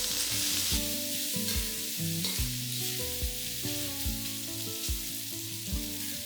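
Pork belly fries in hot oil for cabbage stir-fried rice, making a loud, continuous sizzle and spatter broken by regular scraping and clanking strokes of a spatula in the pan, with no one talking.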